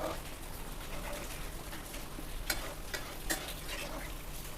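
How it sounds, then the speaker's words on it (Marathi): Cooked chickpeas tipped into a kadhai with masala spices, heard as a soft continuous sizzle with scraping stirs and two brief sharper clinks near the end, fairly quiet and without talk. "शिजवून घेतलेले छोले ते आपण आता कढईमध्ये सगळे ओतून घेणार आहे।"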